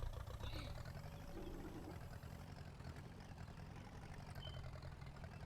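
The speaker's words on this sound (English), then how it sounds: "This tractor's so slow when you reverse." Tractor engine idling in the Farming Simulator 19 video game, a steady low diesel rumble that holds constant and fairly loud throughout with no talk over it.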